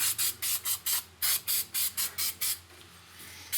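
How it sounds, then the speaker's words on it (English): Short bursts of anti-corrosion aerosol hiss onto the battery terminals, posts and hold-down bolts of a 2004 EZGO TXT 36-volt electric golf cart, about a dozen quick sprays in an uneven rhythm that grow fainter toward the end. "even the big negative post, I'll spray it."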